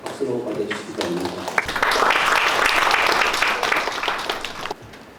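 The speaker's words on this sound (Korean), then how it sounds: "박수로 맞아주시기 바랍니다" Audience applause at a Busan City Council debate marking 30 years of local autonomy. It swells after a faint opening and holds as a dense, steady patter for about three seconds before fading abruptly.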